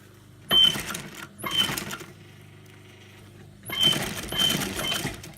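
A sewing machine stitches a new zip into a boot in short bursts of rapid mechanical chatter, separated by a pause, heard up close.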